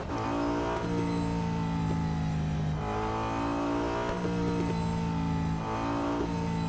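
Audi A5 DTM 2012 race car in Real Racing 3 roars at sustained high revs, its engine note climbing through repeated gear changes with steady loud droning and no pauses.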